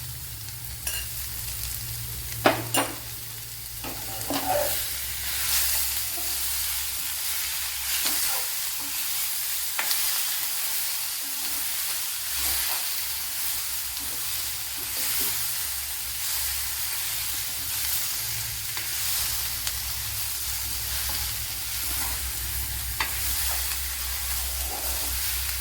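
Lemon pieces for a Kerala lemon pickle fry and sizzle steadily in a pan, with occasional scraping clatters from stirring, close and continuous with no talk.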